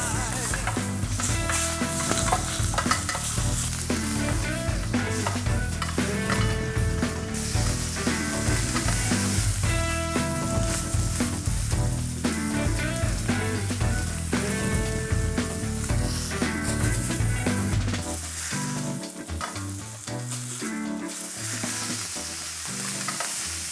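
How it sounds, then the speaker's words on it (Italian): Beef steak for tagliata searing in a hot pan, a loud, steady sizzle running throughout with tonal background music layered over it and no talking. "Ora sigilliamo i lati velocemente."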